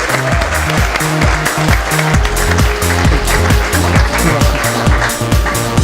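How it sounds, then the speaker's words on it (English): A crowd claps loudly and steadily at an awards night to honor an award winner, under a pounding music beat that runs throughout. "a big round of applause, massive congratulations for Best Elevator Pitch, Haydar Mustafa"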